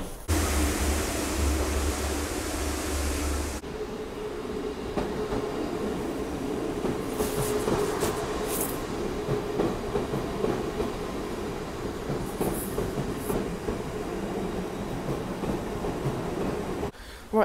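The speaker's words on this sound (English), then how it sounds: "Train's about to come into the station." A train rumbles into a station on a rainy day in Weymouth, England, with a loud rush that drops to a steady rolling drone, brief high wheel squeals cutting through now and then.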